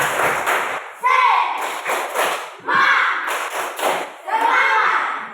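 A primary school class performs the rhythmic tepuk semangat spirit clap in unison, with bursts of claps and thumps and children's voices chanting along in a lively, repeating pattern.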